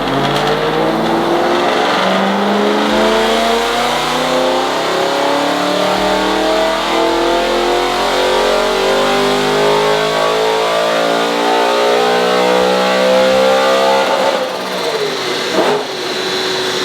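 A BMW E92 M3 engine is revved hard on a dynamometer, a loud, continuous roar climbing steadily through the rev range for most of the run before easing off near the end, with no voices.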